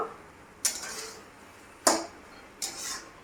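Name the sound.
stirring white spinach in a cooking pan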